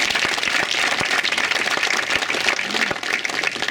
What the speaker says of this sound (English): So big round of applause for Ted sir.